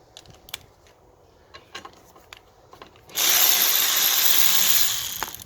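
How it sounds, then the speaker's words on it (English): Wiper arm nuts on an Alfa Romeo 147 or GT are undone, first with ratchet clicks and taps, then a loud steady whir of a power tool running for a couple of seconds close by. "And then undo the 10mm nuts holding the arms on."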